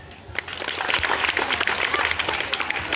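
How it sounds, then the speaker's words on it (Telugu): Students at a school Sankranti rangoli competition clap together in a dense burst of applause. The clapping rises quickly and stays steady and close for a few seconds. "క్లాప్స్"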